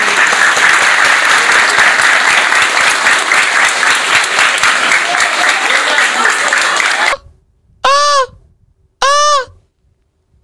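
Loud, dense audience applause fills the first seven seconds, then stops abruptly. Two short, separate honking calls follow in near silence.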